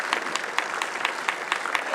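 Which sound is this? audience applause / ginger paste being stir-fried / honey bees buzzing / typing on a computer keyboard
audience applause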